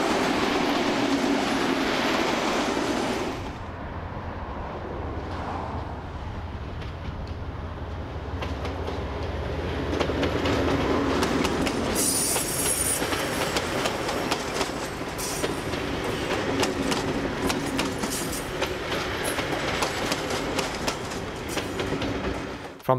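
A railcar train rolls steadily along the rails with a rumbling clatter and rhythmic clicks, loud and close, with occasional squealing wheels.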